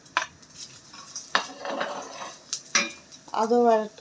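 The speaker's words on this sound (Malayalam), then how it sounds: "തേങ്ങാക്കൊത്തൊന്ന് മൂക്കട്ടെ" Coconut pieces fry in a pan for Kerala beef curry, with metal spoon clinks and scrapes against the pan over a low sizzle. Near the end comes a short voiced, whining sound.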